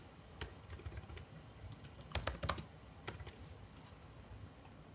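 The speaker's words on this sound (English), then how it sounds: "I am just typing something, just wait for a second" Keys clatter on a computer keyboard in irregular bursts, with a cluster of faster taps in the middle, close and fairly quiet over a soft background hiss as an SQL query is entered.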